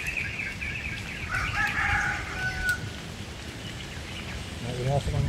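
A rooster crows at a distance, faint and drawn out, over steady outdoor background noise, followed by a few soft clucks near the end.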